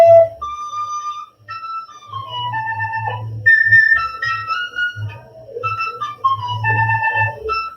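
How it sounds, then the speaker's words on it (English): Peruvian panpipes from South America play a breathy, wavering melody of sustained and sliding notes, close and fairly loud, with a low rhythmic thumping accompaniment underneath throughout. "They're Peruvian panpipes"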